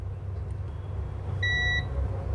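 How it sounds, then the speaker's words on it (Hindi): A multimeter continuity tester on a Redmi Note 9 phone coil gives one short, clean electronic beep lasting under half a second, heard over a steady low room hum. "दोनों साइड बीप दे रहा है"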